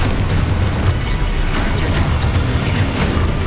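Spell explosions from the Confringo curse in a wizarding video game, a continuous dense rumble of booming blasts and bursts that fills the whole stretch, loud and close, with no clear gaps between impacts.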